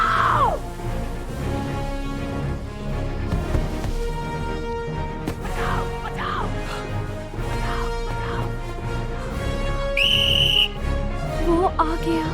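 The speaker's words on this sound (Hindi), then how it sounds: "नकाबपोश आया तो मॉक्स सीटी बजाएगा।" A shrill whistle blown as a signal in a Hindi-dubbed animated crime story, a short steady tone sounding briefly near the end over background music and effects.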